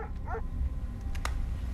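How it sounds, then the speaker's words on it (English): A dog gives a few short, high yips and whimpering barks in quick succession, fairly close, with low background rumble and no talk. "I can hear him really barking."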